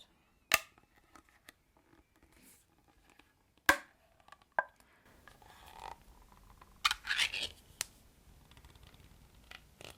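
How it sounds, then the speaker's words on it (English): A jar of kiwi dip being opened: sharp isolated clicks and snaps of the lid, then rustling, scraping handling noises and a couple of further clicks, close and fairly quiet with silence between. "I'll just open the jar first."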